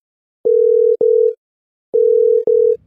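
A telephone call rings unanswered: two pairs of steady electronic ring tones, each pair made of two short beeps, separated by a silent gap, loud and clear with nothing else around.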